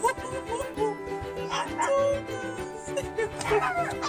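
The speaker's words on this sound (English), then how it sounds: "I hear puppies." Newborn puppies, a litter of about nine or ten, whimper and yip in a steady, overlapping chorus of thin high cries, fairly close, with faint voices in the background.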